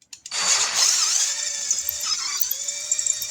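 A drill bit working a hole in a small engine carburetor for a tri-fuel inverter generator conversion, a steady high-pitched whine that holds for about three seconds with slight dips in pitch, close and loud.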